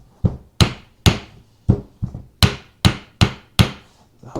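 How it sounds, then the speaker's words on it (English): A hammer strikes a part of a 1993 Kawasaki KZ1000P motorcycle ten times in a steady rhythm. The whacks are sharp, loud and close, each ringing briefly before the next, with no talking. "Give it another couple just whacks to loosen everything up"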